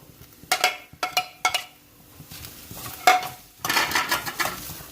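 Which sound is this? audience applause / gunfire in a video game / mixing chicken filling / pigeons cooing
mixing chicken filling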